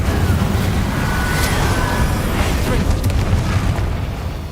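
Incendio fire spell cast in Hogwarts Legacy, a continuous roaring, rumbling burst of flame with deep booming low end, loud and sustained without pause for several seconds.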